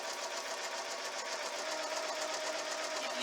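A sewing machine chain pieces quilt blocks in one continuous, even run of rapid stitching with a fast, regular pulse, close and moderately loud.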